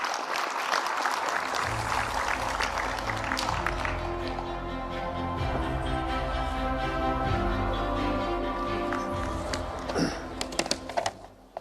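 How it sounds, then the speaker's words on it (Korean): Welcoming applause from a forum audience in Korea as a university president takes the stage. It is dense and continuous for about ten seconds, then thins out into a few scattered claps near the end, with a steady low hum beneath it. "총장님을 뜨거운 박수로 맞이해 주시기 바랍니다"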